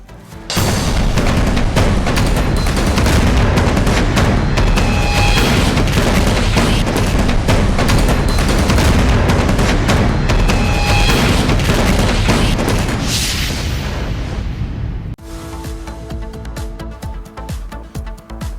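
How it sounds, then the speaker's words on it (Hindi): Russian missile strikes in Ukraine produce a loud, continuous barrage of booming explosions and heavy rumble that lasts about fifteen seconds before dropping to a quieter, lingering roar. "यूक्रेन पर लगातार पुतिन की जो मिसाइलें हैं वो हमला कर रही हैं।"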